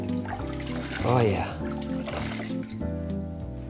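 Tap water runs steadily while hands are scrubbed at a sink, a continuous close splashing under a man's brief speech.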